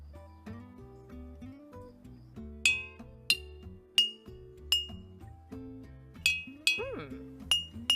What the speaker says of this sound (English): I wonder what will happen if I use this spoon to bang on the glass.